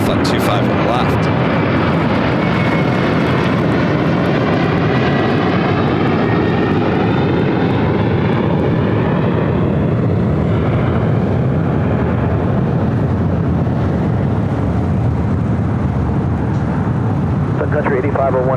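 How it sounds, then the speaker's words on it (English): Sun Country Airlines jet roaring down LAX runway 25 left on takeoff, a loud sustained engine roar with a sweeping pitch shift as it passes and climbs away, with a radio voice talking over it. "Oh, we have the Sun Country hybrid taking off on 25 left"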